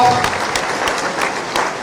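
Loud, dense clapping from a big crowd at a Vijay Sankalp Sabha political rally, sustained and even with a few sharper individual claps standing out.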